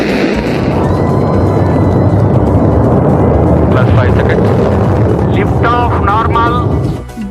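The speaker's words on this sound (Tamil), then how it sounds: "வெற்றிகரமாக விண்ணில் சீறி பாய்ந்தது PSLV C-60 ராக்கெட்." The PSLV C-60 rocket launches with a loud, sustained rumbling roar that fills the whole stretch, and faint voices rise over it near the end.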